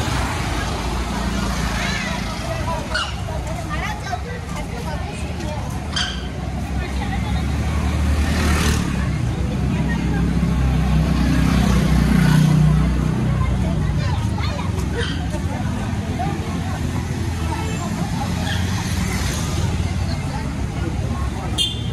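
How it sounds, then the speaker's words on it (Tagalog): Busy road traffic in an area near an army hospital, cars and trucks passing with a steady broadband rumble that swells around the middle, mixed with crowd hubbub and nearby voices. "Kasi ma-traffic na."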